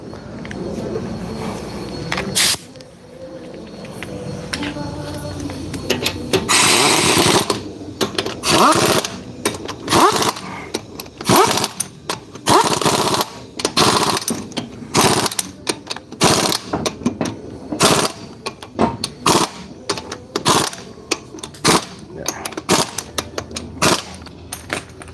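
An impact gun with a socket working on the front brakes of a 1996 Ford F150, loud repeated bursts of rattling hammering in short and longer runs amid clanks of tools and voices.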